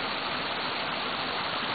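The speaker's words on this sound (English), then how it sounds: "here's the waterfall just behind our house." A waterfall just behind a farm house beside green jungle rushes as a steady, dense broadband roar, constant and fairly close throughout, with no voices.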